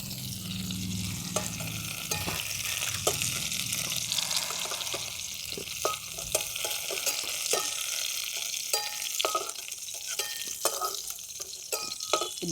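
Potato and pointed gourd pieces fry in hot oil, a loud continuous sizzle close up with frequent scraping stirs of a spatula against the pan, rhythmic and busy from start to finish with no talking.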